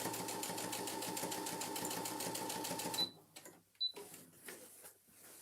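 A sewing machine runs steadily while top-stitching a handbag, a loud even mechanical whirr that stops abruptly partway through, followed by a few faint handling clicks and rustles.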